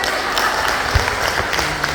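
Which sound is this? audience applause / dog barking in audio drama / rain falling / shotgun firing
audience applause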